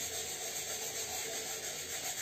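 Soft sandpaper rubbed lightly by hand over a decoupage box, a steady, even scratchy rustle that runs close and continuous with no talking.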